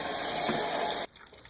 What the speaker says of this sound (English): I want to get a couple of flushes in.